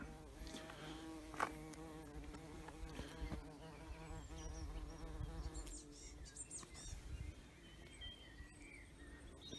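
A bumblebee gathers nectar from flowers during a countryside walk, its low drone hovering close and steady with small shifts in pitch as it moves, alone without speech.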